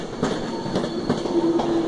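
A Class 390 electric train departs Carlisle station, with a steady rolling rumble and rhythmic clicks of wheels over rail joints, plus a faint high squeal, close and continuous without talk.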